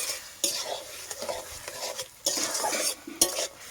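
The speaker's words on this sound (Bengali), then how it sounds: "এই যে গুড়টা দিয়ে আমি ভালোভাবে একটু নাড়াচাড়া করে নেব।" Spoon stirring jaggery through simmering mango chutney in a pan, with scraping strokes and a soft bubbling sizzle underneath, close and moderately loud, no talking.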